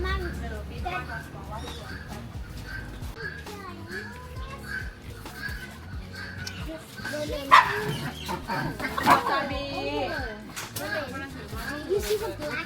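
A dog barks in short bursts outdoors in Thailand, mixed with children chattering and playing nearby and the occasional chicken or rooster, all fairly close.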